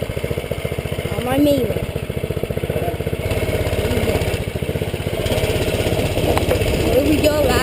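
A Doodle Bug mini bike's small engine runs steadily with a buzzing, slightly uneven idle that rises and falls, close by, while a person talks over it.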